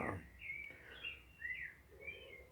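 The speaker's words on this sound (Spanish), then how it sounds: "varios pájaros estaban piando desde los árboles" Several birds chirp and warble from trees on a morning walk in Vrindavan, with repeated short rising and sliding calls over a soft outdoor background hum, moderately close but fairly quiet.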